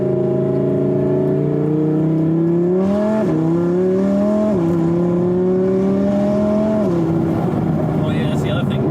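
From inside the cabin, an Audi R8 V10 Plus pulls hard. Its engine note climbs steadily and drops sharply at each of several quick gear shifts, loud and close, with voices faintly beneath.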